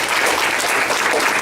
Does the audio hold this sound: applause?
yes